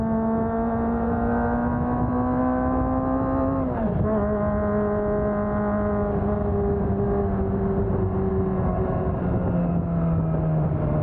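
Steady, close motorcycle engine drone, holding an even pitch, then dipping briefly and settling slightly lower, with no talking.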